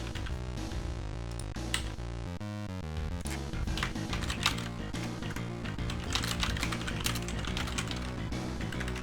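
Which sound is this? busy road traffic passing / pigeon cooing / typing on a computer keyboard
typing on a computer keyboard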